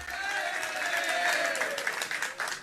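An audience claps during a Hindi religious sermon. The applause is dense and continuous, with a speaking voice carrying over it.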